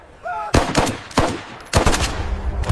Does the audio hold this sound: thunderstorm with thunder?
no